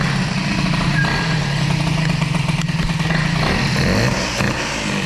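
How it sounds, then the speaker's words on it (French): Peugeot 103 moped fitted with an Airsal 65 hybrid kit, its engine labouring at very low revs with a rough, steady, throbbing idle-like note, close and loud with no talking. "très bas régime, le moteur a du mal à remplir"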